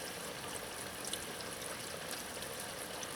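Water rushes steadily through the cooling system of a 2000-2007 Ford Taurus while the radiator plug is out for flushing. The stream runs without a break and without talk.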